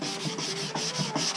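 Hand sanding of a Rocket Bunny body-kit rear diffuser, a steady close rasping rub in repeated back-and-forth strokes, continuous and loud with no talking.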